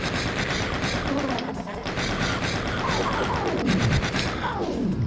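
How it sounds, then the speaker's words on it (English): Doom chain gun firing in rapid, relentless bursts, a dense rattling stream of shots mixed with monster sounds and game effects, loud and continuous while a player talks over it. "So we can kill 1 or 2 with the chain gun."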